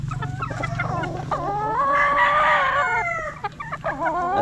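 Gamefowl roosters of the Joe Black and Reaper Blues lines crow loudly at close range on a breeding farm, one long drawn-out cock-a-doodle-doo in the middle framed by shorter clucks and calls over a low steady hum.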